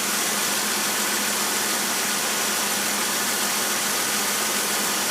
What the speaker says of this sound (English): It kind of sounds like marbles sometimes.